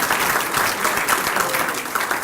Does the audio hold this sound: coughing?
no